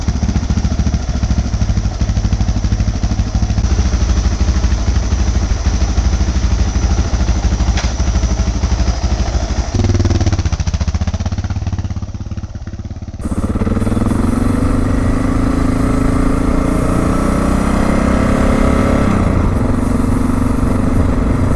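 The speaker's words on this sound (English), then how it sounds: "That seems like a pretty clean idle." A Suzuki DR650 motorcycle engine idles steadily and close up, a loud continuous thumping rumble that briefly dips and shifts in tone partway through before settling back into a smooth even idle.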